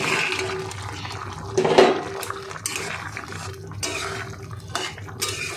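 Pakoras drop into a pan of thick, bubbling chilli soya sauce, giving a burst of sizzling and splashing followed by steady gurgling bubbling and a few light clinks of utensils against the pan.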